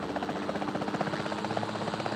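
A helicopter in the game Jurassic World Evolution 2 on a tour over a Hawaiian park, a steady rotor thrum and engine drone that keeps an even, pulsing level throughout.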